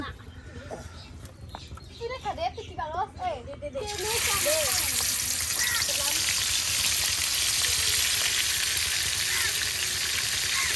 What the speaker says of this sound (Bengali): এই মাংসটা এখন এটা ভেজে নিচ্ছেন।